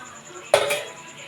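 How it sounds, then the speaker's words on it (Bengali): Fried potatoes drop into a pot of mutton kosha with one short clatter and a sizzle, near and moderately loud against a quiet kitchen background. "এবারে আমি ভেজে রাখা আলুগুলো আমি এখনই দিয়ে দেবো।"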